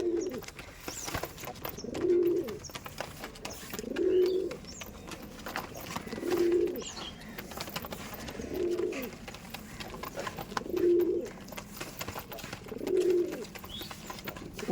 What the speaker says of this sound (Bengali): এরকম গিরিবাজ পায়রা দেখুন পনেরোশো টাকার মধ্যে কালেকশান করতে পারছেন